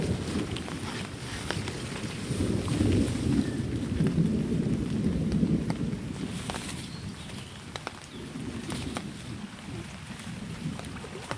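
Steady rain falling outdoors during eel fishing with a net, a dense continuous patter with low rumbling, close and fairly loud throughout, with no talking.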